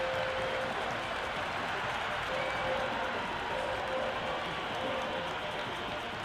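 Simulated stadium crowd at a cricket video game match between Australia and West Indies gives a steady, distant roar of cheering and applause, faint and unbroken throughout.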